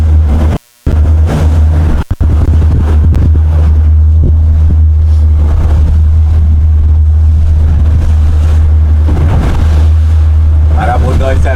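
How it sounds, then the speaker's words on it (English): A B-class race boat's engine roars at full power, a loud, constant droning rumble mixed with heavy wind buffeting, the sound dropping out briefly near the start. "You hear that? Press power on that boat."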